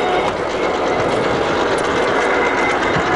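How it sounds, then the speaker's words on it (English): A Heymer & Pilz gap bed lathe runs with its lead screw engaged, giving a steady, loud mechanical whir with fine rattling and ticking throughout and no talking. "So basically I've got the lead screw running there."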